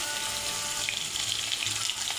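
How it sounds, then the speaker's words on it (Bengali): Potato pieces fry in hot oil until browned for a home-style katla fish curry with drumsticks, giving a steady, close hissing sizzle with faint bubbling and no voices. "দেখো, আলুটা আমি লাল করে ভেজে নিচ্ছি।"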